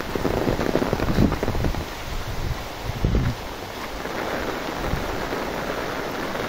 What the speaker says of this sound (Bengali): বৃষ্টি আর বৃষ্টি।